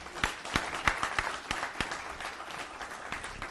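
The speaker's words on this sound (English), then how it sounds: "Let's give a warm round of applause to Mr. Piyush Goyal" Faint, scattered clapping from an audience at a World Coffee Conference curtain raiser, individual hand claps standing out sparsely at a distance with no voices over them.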